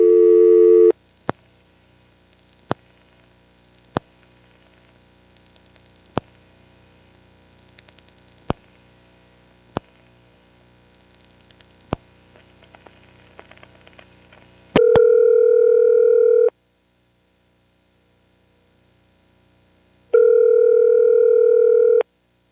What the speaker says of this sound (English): what follows is probably the world's only recording of an actual intra-office call being dialed in an NX1-E